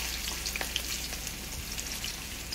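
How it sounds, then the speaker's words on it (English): Spice-rubbed lamb pieces sizzle and fry in hot ghee in a karhai, a dense close crackle and hiss with small pops and stirring scrapes, alone without talk. "pay attention to that sizzle because that's really important to give your meat the color that we need to get that caramelization"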